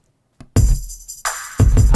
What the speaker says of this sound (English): here is the sound of the final chorus with the added live drums